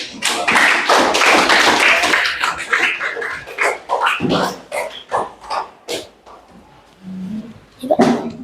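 Classroom applause from a Year VII class after a student presentation, a dense burst of clapping for several seconds that thins into scattered claps and a few voices.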